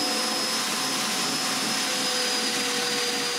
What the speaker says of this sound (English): mark the rest of the mortises, and cut them